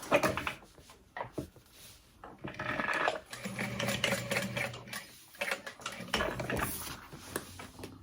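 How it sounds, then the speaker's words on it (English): A sewing machine runs in bursts as it stitches a box stitch on a backpack, with uneven whirring passes, short pauses and small clunks of handling between runs. "So there is our box stitch. We'll repeat that on the other one."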